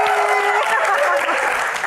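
Audience applause at a live Q&A session, loud and sustained with dense clapping from a crowd filling the whole stretch, a voice briefly calling over it.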